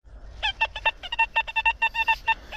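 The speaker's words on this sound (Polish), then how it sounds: "naprawdę fajny sygnał. Króciutki, a wysoki." A metal detector sounds a series of short, high-pitched electronic beeps in quick, uneven bursts while sweeping over ground behind old houses, each tone clear and close against a quiet outdoor background.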